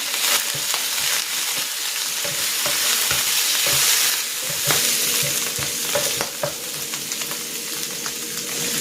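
Mushrooms fry with onion and garlic chicken in a pan, a loud continuous close sizzle broken by repeated scraping and clattering strokes of stirring, with no voices.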